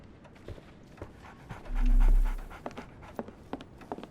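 A dog in the Sherlock Holmes The Awakened video game pants in quick, soft, close breaths, with a brief low rumble partway through.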